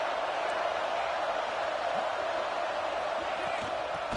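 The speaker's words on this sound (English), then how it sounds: "Listen to the crowd energy here in the early going." Stadium crowd noise in NCAA 26 college football, Georgia against Clemson, a steady dense roar of many voices with scattered shouts throughout.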